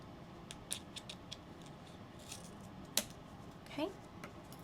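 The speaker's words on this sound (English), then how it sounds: "Let's take our scissors and just trim these little pieces off." Scissors snipping small pieces off a handmade Christmas card panel, a few quiet crisp cuts spread across a soft background, with a sharp click partway through and light handling rustle.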